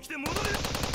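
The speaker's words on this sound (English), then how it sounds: "Shimayama's scream was cut off by the sound of gunfire." Rapid machine-gun fire bursts out after a brief lead-in, a dense, loud rattle of repeated shots in a visual-novel scene from Steins;Gate 0.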